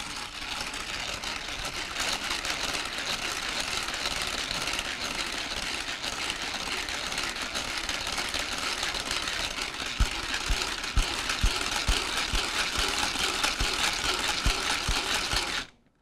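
An electric mixer whips egg whites with a steady, loud mechanical whir that holds for about fifteen seconds, with a few brief clicks near the end before it stops abruptly.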